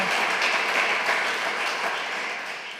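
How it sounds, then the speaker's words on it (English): Conference audience gives the guest speakers a round of applause, a dense wash of clapping at moderate level that gradually tapers off. "So I'd like to give all 7 of our guest speakers a big round of applause."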